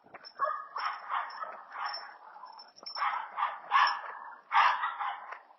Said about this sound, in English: Dogs are barking at us.